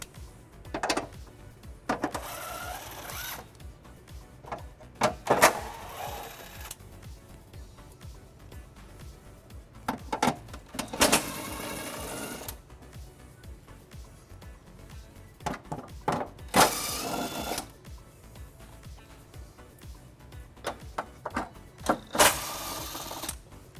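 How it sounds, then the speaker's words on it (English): A ratchet with a 10mm socket spins off heat shield nuts on a 2012 Hyundai Genesis, sounding in several short, close clicking bursts separated by quiet pauses. "It's held in by 6 nuts. And we'll remove those using a 10mm socket."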